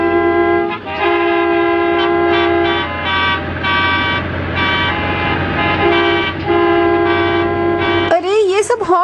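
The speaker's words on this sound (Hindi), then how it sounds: "आप सब लोग पीछे हॉर्न क्यों बजा रहे हैं?" Several vehicle horns blare in sustained, overlapping tones, some long and some short, loud and close, ending in a warbling siren-like sound.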